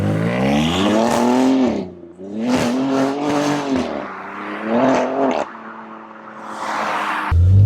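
A tuned BMW G80 M3 engine revs while driving on a greasy road, rising and falling in strong harmonic sweeps through gear changes, loud and close, with a brief lull before pulling hard again.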